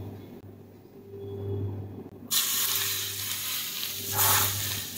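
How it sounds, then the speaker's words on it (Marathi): Hot oil poured onto a coriander vadi mixture of garlic, green chili paste, red chili powder, hing, sesame seeds and salt bursts into a sudden loud sizzle halfway through, after a quiet low hum, then crackles on with a brief flare. "दोन टेबलस्पून कडकडीत तेलाचे मोहन यावरती टाकून घेऊ"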